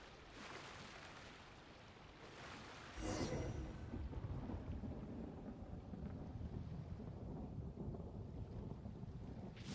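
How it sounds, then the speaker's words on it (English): Thunder rumbles through a rainy thunderstorm in the video game Genshin Impact. A sudden loud crack arrives about three seconds in and rolls on over steady rain and wind, with no voices. "Where'd that thunder come from?"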